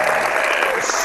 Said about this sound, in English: I'm going to do the infamous round of applause things for Mr. Brendan